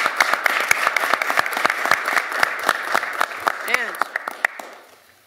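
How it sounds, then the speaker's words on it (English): An audience at a housing roundtable applauds, with a brisk, fairly close patter of many hands clapping that holds steady, then tapers off at the end, with a brief voice cutting through midway. "I want to give you all a round of applause for stepping forward."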